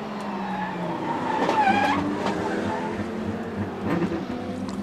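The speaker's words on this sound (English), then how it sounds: "It's one of those times when you hear the screech of tires," A race car slides during a 24-hour endurance race on a sand-dusted track, with engine roar and squealing, skidding tires swelling and fading over a few seconds, commentators' voices faintly beneath.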